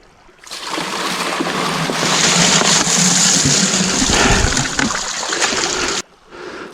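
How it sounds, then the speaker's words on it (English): Water pours steadily into a gold wash plant, a loud, continuous splashing rush that swells midway and cuts off abruptly near the end. "as I pour water, you're losing the majority of the water off to the side"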